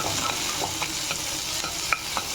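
Onion and tomato sautéing in a pan give off a continuous close sizzle, with light scraping clicks of a spoon stirring at irregular moments.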